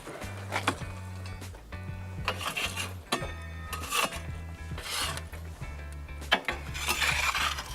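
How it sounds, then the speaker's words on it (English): A metal utility peel scraping and dragging burning coals across the floor of a wood-fired oven, rough rasping strokes close by with clinks and a low hum behind. "Pushing all the coals off to the side."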